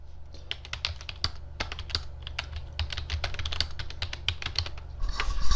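A computer keyboard being used to type a search, producing rapid, steady clicking keystrokes close up, continuous throughout with a slight rise in noise at the end.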